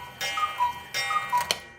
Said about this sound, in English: you may hear some ticking in the background of these clips, but that's just my parents' cuckoo clock